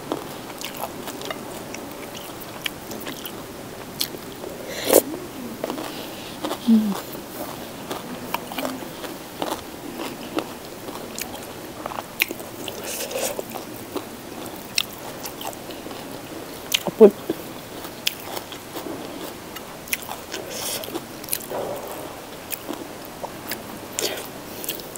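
Someone bites and chews crispy battered deep-fried black mushrooms, with close crunches and sharp crackles recurring irregularly over quiet mouth sounds and faint background noise.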